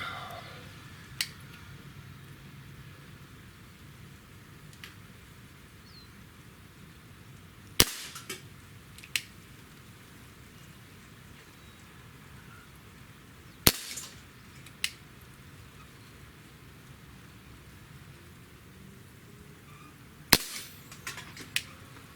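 Webley MKVI 4.5 mm CO2 air pistol firing pellets outdoors, a handful of sharp isolated pops spaced several seconds apart over a quiet background hiss, with no talk.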